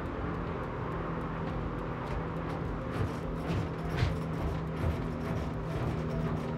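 A Jeanneau NC 1095 flybridge boat engine drones steadily with a dense roar of wind and water as the throttle eases back from wide open toward a high cruise. No one speaks.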